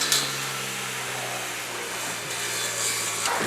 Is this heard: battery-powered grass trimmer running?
yes